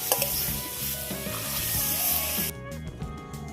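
Water poured onto frying potatoes and eggs in masala, a dense rushing sizzle with stirring clatter that cuts off abruptly, leaving quieter bubbling and a few light knocks.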